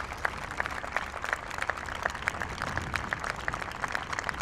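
An outdoor audience at a peace day ceremony in Dublin's War Memorial Gardens gives a round of applause, steady clapping that stays faint and distant throughout.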